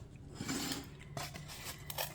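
Foam board from Dollar Tree being cut around a traced circle, a soft close rasping and snipping that runs steadily for a couple of seconds with small scraping bursts, no talking.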